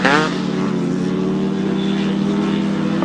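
Two-stroke grasstrack racing motorcycle engines howl steadily at a race meeting, a loud sustained buzzing drone with a brief revving burst at the start, continuous throughout.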